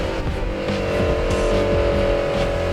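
A Y62 Nissan Patrol revs hard through snow on Mt Skene, its engine droning loud and steady with rising strain and no voices.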